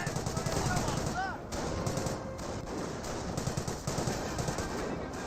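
Machine-gun fire in the Company of Heroes WWII strategy game: steady, rapid bursts that run almost without pause, with a short whining sweep near the start and battle din filling the background.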